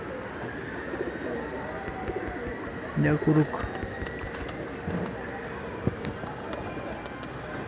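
Pigeons coo repeatedly at a pigeon loft, with soft rolling calls running through the scene. Someone talks briefly over them, and a few faint bird sounds and small knocks are scattered in the background.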